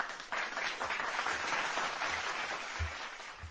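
Audience applause after a presenter thanks a guest at an insurance adjusters' event, a steady wash of many hands clapping that starts abruptly and holds at an even level throughout, with no voices over it.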